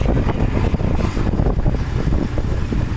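Loud, continuous wind blasts across the microphone, a rough low roar that barely lets up for the whole stretch.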